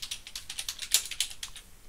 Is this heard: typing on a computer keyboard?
yes